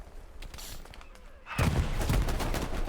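Burst of heavy aircraft strafing gunfire erupts midway through a World War II battlefield scene in Hell Let Loose, a loud, dense rattle of rapid shots following quieter scattered distant fire and faint voices.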